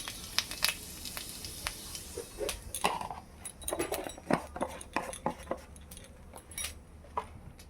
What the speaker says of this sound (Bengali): এবার আমি একটু গোটা জিরে দিয়ে দিলাম।